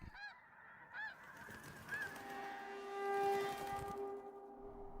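Flock of migrating geese honking in repeated calls overhead, with several distinct honks early on and a sustained chorus swelling in the middle before thinning out.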